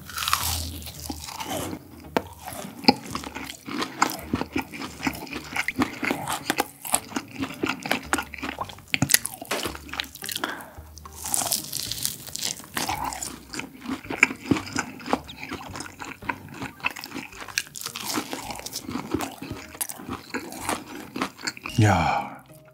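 Someone eats crunchy Bburinkle fried chicken up close, with repeated loud crunching bites and chewing, wet mouth sounds and scraping, and quiet speech mixed in.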